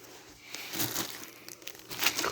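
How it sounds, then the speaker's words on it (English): Packaging for a Hoover React whole-home cordless vacuum crinkles and rustles as it is unwrapped, with soft, uneven crackles and tearing bursts close by, growing louder toward the end. "And I'm going to unwrap everything."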